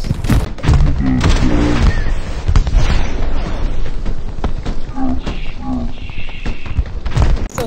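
Heavy gunfire in the World War II shooter Hell Let Loose, loud booming shots and thuds over a dense battle din, with voices talking throughout.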